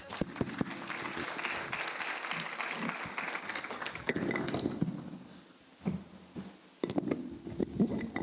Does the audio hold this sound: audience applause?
yes